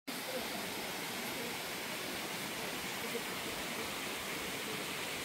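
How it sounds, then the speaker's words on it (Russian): A steady, unbroken roar of rushing water from a tall waterfall in North Korea, a dense hiss that holds the same level throughout with no voices over it. "Вдалеке высокий водопад, но его не очень видно."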